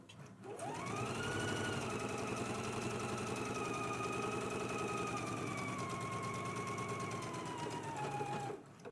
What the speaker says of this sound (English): we can go ahead and stitch using a 5/8 of an inch seam allowance